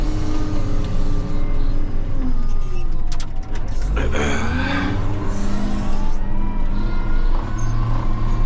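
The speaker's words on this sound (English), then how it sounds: "There's a truck coming around for 20 bags of topsoil." A truck arrives to deliver topsoil, its engine rumbling heavily with a brief hiss and squeal partway through, loud and close, with a voice speaking over it.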